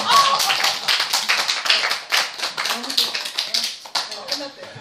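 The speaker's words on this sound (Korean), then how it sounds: "그러면 일단 박수로." A crowd claps steadily for several seconds, a dense patter of many hands at close range, fading slightly toward the end.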